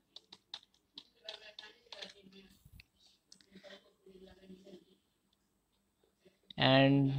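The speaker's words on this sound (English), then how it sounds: "type your sudo password" Password being typed on a computer keyboard during a software install on Ubuntu: a few light, quick key clicks scattered under a man's speech, followed by a brief loud burst near the end.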